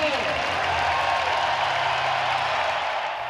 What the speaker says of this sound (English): Please give a round of applause for Senator Herb Kohl.